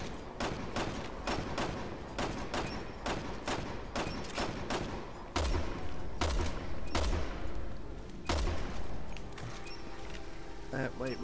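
Rapid bursts of gunfire from the video game Resident Evil 6 ring out in a fast, irregular series of sharp shots, with a few heavier blasts midway, as players talk over the action.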